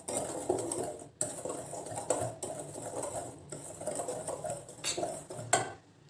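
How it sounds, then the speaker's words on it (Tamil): Dhokla batter with semolina gets mixed in a bowl, a spoon scraping and tapping against the sides in repeated rhythmic strokes with brief pauses, close and moderately quiet, no voices. "அதுக்கப்புறம் ரவை சேர்த்துக்கிறோம். எல்லாத்தையும் நல்லா கலந்துடணும்."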